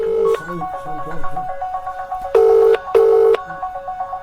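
Phone ringtone tones sound in short repeated bursts, close and clear, with several loud pulses later on and speech mixed in between.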